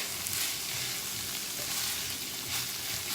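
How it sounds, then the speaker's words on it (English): Crumbled sausage-style tempeh fries in a pan, giving a dense, even sizzle that fills the whole stretch, close and steady with no talk over it. "it takes about 10, maybe even 15 minutes to get your sausage a little crispy like you would like"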